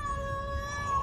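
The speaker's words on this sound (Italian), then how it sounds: "Vinci, senti anche tu questo verso dentro questo bidone." Kitten meowing from inside a trash bin, a single drawn-out, high, plaintive cry heard close and fairly loud.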